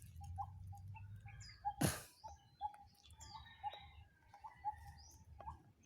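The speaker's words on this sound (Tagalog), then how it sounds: "May ibon." A bird calls outdoors in short repeated chirps and notes spread across several seconds, faint against a low rumble, with a sharp loud knock near the start.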